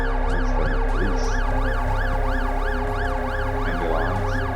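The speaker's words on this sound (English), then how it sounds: "Ambulance." A wailing ambulance siren in the video game The Alters rises and falls steadily and keeps sounding loud throughout, with a low engine rumble beneath and no voices over it.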